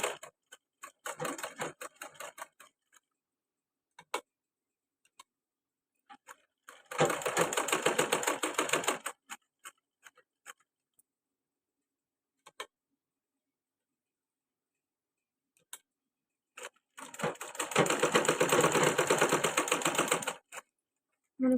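A sewing machine stitches a baby balloon frock in rapid mechanical bursts, several runs of fast clattering separated by quiet pauses and scattered single ticks, close and alone without talk.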